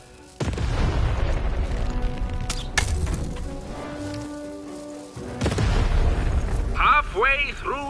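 A cannon fires twice in Lost in Random, two heavy booms with rumbling tails a few seconds apart over game music and ambience, the second followed by chirpy creature-like voices.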